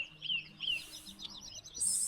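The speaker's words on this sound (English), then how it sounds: "now this morning just listening to the birds" Small birds sing and chirp in the early morning in the remote Scottish Highlands along the Cape Wrath Trail, with clear, fairly close high warbling phrases repeating over a quiet, still background.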